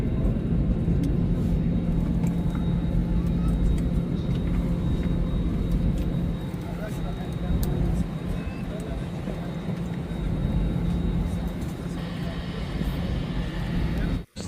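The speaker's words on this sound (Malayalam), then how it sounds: "അപ്പോൾ ഫ്ലൈറ്റ് ടേക്ക് ഓഫ് ചെയ്യാൻ സമയമായി." Steady low engine drone fills an Air Arabia aircraft cabin before takeoff from Sharjah, a constant rumbling hum with faint background murmur throughout.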